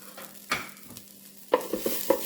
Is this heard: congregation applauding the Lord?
no